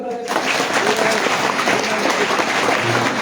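A group of village children claps together in a burst of applause, with voices chattering underneath.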